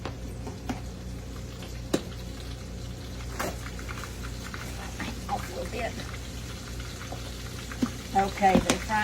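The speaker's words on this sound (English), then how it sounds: "Okay, there's all those steak fingers." Steak fingers fry in hot oil, a soft, steady sizzle and bubbling with occasional pops and clinks, rising toward the end, while a person talks over it.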